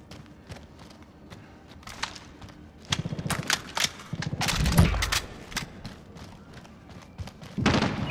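Gunfire in a Call of Duty team deathmatch on the Piccadilly map, with scattered shots and rapid automatic bursts, heavy thuds and an explosive boom mid-clip, close and loud amid game chatter.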